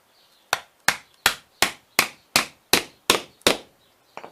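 A hammer strikes a screwdriver into a phone, nine sharp, evenly spaced metallic knocks close up, followed by a softer double tap at the end, with no talking.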